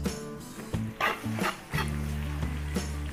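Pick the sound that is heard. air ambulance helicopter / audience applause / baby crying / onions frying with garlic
onions frying with garlic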